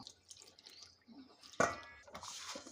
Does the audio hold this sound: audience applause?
no